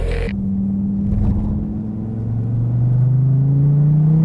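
SRT Viper GTS accelerating hard along the front straightaway at Laguna Seca, its engine note climbing steadily in pitch as revs build past 5,000 RPM, loud and close, with no talking.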